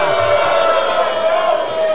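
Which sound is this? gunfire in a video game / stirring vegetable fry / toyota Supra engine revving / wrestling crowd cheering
wrestling crowd cheering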